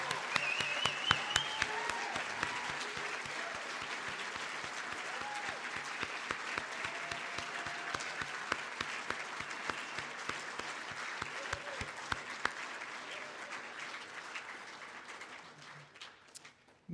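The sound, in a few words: audience applause for graduating eighth graders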